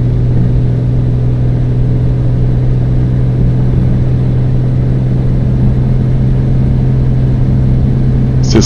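Piper Comanche 250 (PA-24) engine in Microsoft Flight Simulator, a loud, steady propeller drone with a continuous low hum holding nearly level throughout the takeoff roll.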